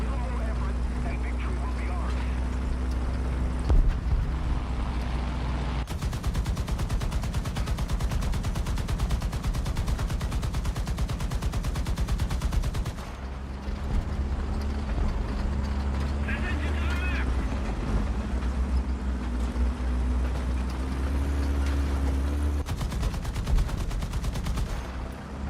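Gunfire in the video game War Thunder, long bursts of rapid machine-gun fire in two extended stretches plus shorter rattles, loud and close under an engine drone, with someone talking over it.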